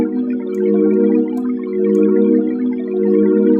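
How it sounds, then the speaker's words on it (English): A Massive X synth pad layering noise, a second oscillator and a steady sine wave gives a full, bubbly sustained tone that holds evenly for several seconds, with gentle swells in level and no talking. "the noise and the second oscillator sort of complement each other and create a bubbly sound."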